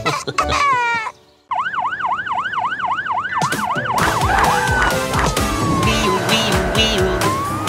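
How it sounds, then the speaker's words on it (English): A police car siren in a children's cartoon song wails loudly in fast, even rising-and-falling cycles. Bright, busy music with other effects then takes over. "Wee-oo, police car,"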